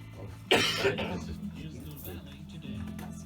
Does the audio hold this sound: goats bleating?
no